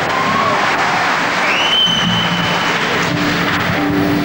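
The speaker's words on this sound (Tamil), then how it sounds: "அதுக்காக தனியா ஒரு கரகோஷம் கொடுங்க உங்களுக்கு ரெண்டு பேருக்கு சேர்த்து" Steady audience applause fills a concert hall, a dense even wash of clapping from a large crowd that runs throughout, with a faint tone or voice rising through it.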